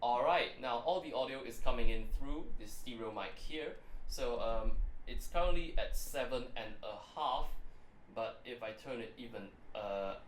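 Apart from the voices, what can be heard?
No distinct noise like a dog, phone or traffic.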